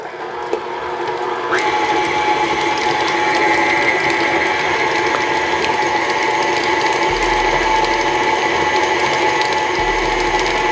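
Electric stand mixer creaming a cup of butter for holiday cookies, a steady mechanical whirring hum with gear-like whine running continuously and loud after a brief start-up, with no talking.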